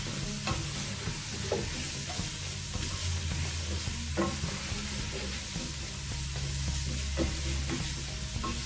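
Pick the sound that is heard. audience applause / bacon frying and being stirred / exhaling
bacon frying and being stirred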